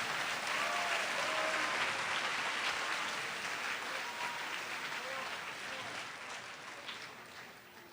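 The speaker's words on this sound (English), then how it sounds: "How about another round of applause for Lydia and Claire?" Sustained applause for students at a high school senior awards assembly, a full audience clapping steadily throughout and tapering slightly toward the end, with a voice faintly underneath.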